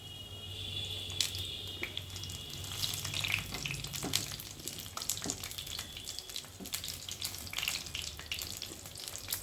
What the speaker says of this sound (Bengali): এইভাবে আমি সমস্ত চপগুলো ভেজে নেব।